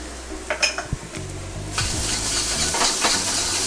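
Garlic, ginger and white onion parts drop into hot oil, a few clatters of pan and utensil first, then a loud, sudden sizzle that continues steadily with stirring taps.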